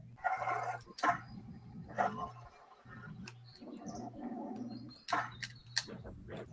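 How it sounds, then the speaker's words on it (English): Birds chirping outdoors, scattered bright calls and tweets over a low hum, with a dog barking now and then and brief sharp knocks nearby. "It's just bird noises."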